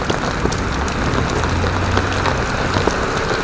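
Moderate rain drums steadily on an umbrella during a downpour in Bangu, Rio de Janeiro, a dense continuous patter close to the microphone with faint traffic rumble underneath.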